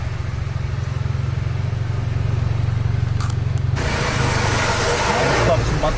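An intercity nonstop bus speeds along a slippery, rain-soaked road, its engine droning low and steady with a hissy wash of road and rain noise that swells louder midway.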